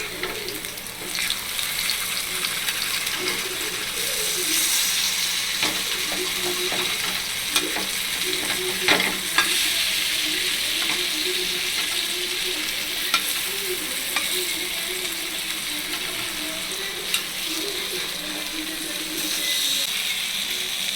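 Pieces of elephant foot yam sizzle steadily while frying in a pan, with repeated scraping and clinking as they are stirred and turned over, and no voice heard.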